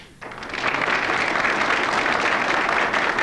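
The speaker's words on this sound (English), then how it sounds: "can we hear some applause?" Studio audience at a 1994 Rush Limbaugh television show bursts into applause after a brief quiet moment, swelling quickly into steady, dense clapping that holds loud and close.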